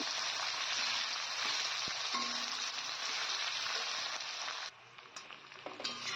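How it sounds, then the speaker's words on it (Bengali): Chopped onions frying in a pan give a close, continuous sizzle, then drop quieter near the end, with a few light stirring clicks. "পেঁয়াজগুলোকে নেড়ে চেড়ে কিছুক্ষণ ভেজে নেব"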